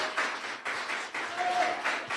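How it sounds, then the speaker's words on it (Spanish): Audience clapping at a public debate, steady applause in several surging bursts that fill the whole stretch, with some voices blended underneath. "Voy a entender que esos aplausos son para mí"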